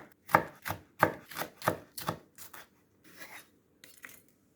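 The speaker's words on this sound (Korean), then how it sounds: "어슷하게 사선으로 썰어줍니다." A knife slices Cheongyang chili peppers diagonally on a cutting board, giving about eight crisp, evenly spaced cuts up close that soften and thin out toward the end.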